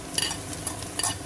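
Onions and garlic fry in a film of oil in a skillet, a soft sizzle broken by a few quick stirring scrapes in close succession, brief and uninterrupted by speech.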